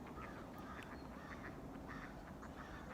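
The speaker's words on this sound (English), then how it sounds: "They're all chattering it up between the ducks right now." A flock of ducks quacks and chatters continuously in a wintry outdoor setting, a dense, steady babble of overlapping calls at moderate distance with no talk.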